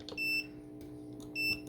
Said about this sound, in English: There's gonna be a beep there because that's your ground as well.